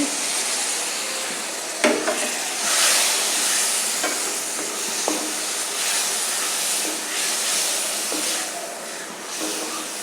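Chopped tomato goes into a hot pan and is stirred, making a continuous hiss and sizzle punctuated by several sharp spatula knocks and scrapes at irregular intervals.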